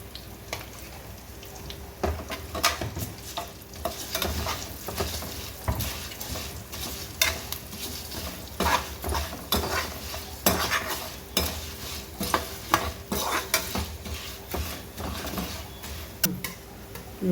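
Asafoetida (hing) sizzles in hot oil while a utensil stirs and scrapes the pan for a ridge gourd chutney, with steady frying crackle and repeated close clinks and taps throughout.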